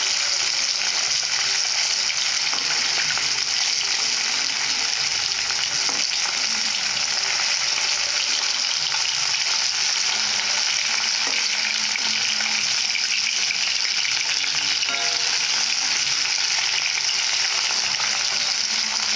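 Fish frying in plain hot oil, a continuous dense sizzle and crackle that stays close and steady throughout with no voices.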